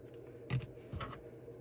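Scissors snip through crochet yarn close up, with two quiet, brief cuts about half a second apart.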